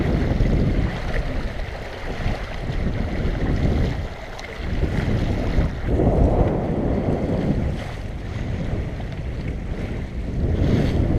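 Steady wind rushes past on a sailboat moving at a good clip, a loud continuous roar of wind noise blended with water washing along the hull, swelling and easing slightly.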